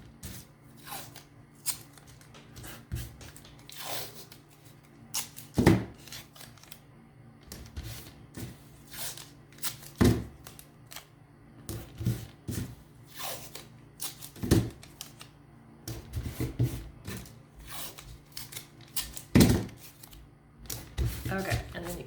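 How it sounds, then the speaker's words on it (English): Painter's tape is pulled off the roll and pressed across a wooden sign in repeated sharp ripping and crackling bursts, close and fairly loud, with a voice faintly present between them. "So if you've got some painter's tape, take that and tape across"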